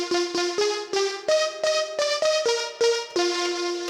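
A bright, plucky synth line played on an Elektron Digitone II recreates a part of a Streets of Rage 2 tune: short staccato notes in a quick, even rhythm, heard clearly on their own.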